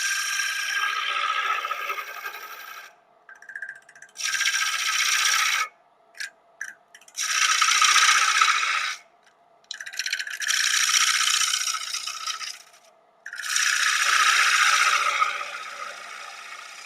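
A gouge cuts cherry wood spinning on a lathe, throwing shavings in loud raspy hissing passes that stop and restart several times with brief silent gaps between cuts.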